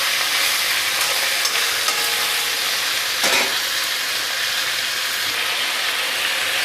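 Marinated local chicken is stirred in a hot pan, producing a steady broadband sizzle with a few scraping clicks from the utensil, close and continuous, with no voices.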